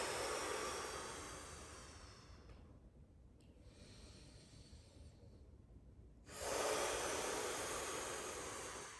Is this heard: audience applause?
no